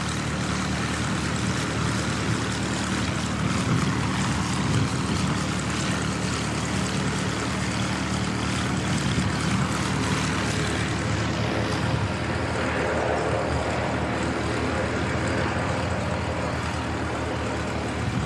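Airplane taking off at Christchurch Airport, a loud sustained propeller and engine roar with broad rushing noise that holds steady, then shifts and thins as the aircraft pulls away, no talk.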